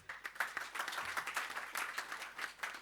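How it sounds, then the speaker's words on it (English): An audience applauds panelists at an energy efficiency audit event, a steady patter of many hands clapping at moderate distance, fairly quiet and with no voices over it. "Let's give a big round of applause."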